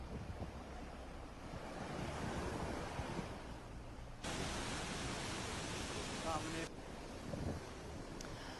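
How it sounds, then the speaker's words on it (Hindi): A waterfall pours down behind a hillside temple in Sirmaur, Himachal, during heavy monsoon rain, producing a loud, constant rushing roar that fills the whole stretch with broadband noise and sudden level shifts. "यहाँ से ऊपर से जो झरना बहता है वो मंदिर के पीछे से गिरता है"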